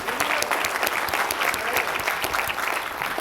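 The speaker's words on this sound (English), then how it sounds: "And let's give them a round of applause." An audience at an electrical company reunion event gives a round of applause, a dense, steady wash of many hands clapping, fairly close and continuous throughout.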